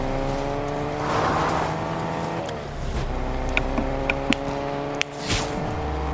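Car driving in the Fortnite video game, a steady engine drone with tonal harmonics throughout, joined by a few short clicks and sharp transient sounds near the end.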